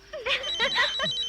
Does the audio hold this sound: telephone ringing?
yes